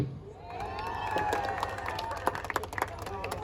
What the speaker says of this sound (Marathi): भक्तासाठी टाळ्या वाजवायच्या आहेत.